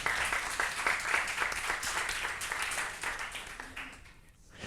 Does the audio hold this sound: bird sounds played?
no